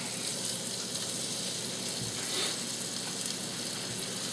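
Pork chops fry in butter and bacon grease over medium heat, giving a steady, dense sizzle and crackle that runs unbroken throughout, close and without any voices.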